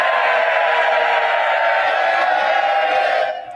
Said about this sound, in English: there's the applause from the Conservative benches there for Rishi Sunak